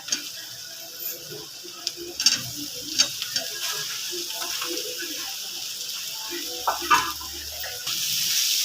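Potato pieces stirred and tossed in a frying pan while cooking batata bhaji, with faint sizzling and scattered soft scraping clinks of a spoon against the pan.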